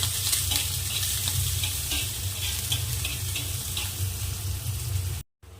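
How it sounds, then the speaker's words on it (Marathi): Chopped onion sizzles steadily in hot oil in a pan while being stirred for a Maharashtrian thecha, a dense continuous frying hiss close by that runs almost to the end before a brief cutoff. "आता याला कांद्याला छान लाल कलर येईपर्यंत परतून घ्यायचा आहे"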